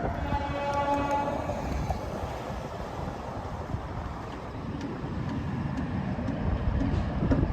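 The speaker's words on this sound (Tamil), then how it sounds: "ஸோ அங்கே பார்த்தீங்கன்னா பனிஹாலில் ட்ரெயின் போயிட்டுருக்கு" A train rumbles past at Banihal in Jammu and Kashmir, loud and close and steady throughout, with a horn sounding briefly near the start.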